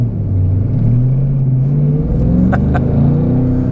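A 700hp Ford Mustang GT with a manual clutch accelerating up an on-ramp, heard from inside as a loud, steady deep engine drone rising gradually in pitch, with a couple of faint clicks near the end.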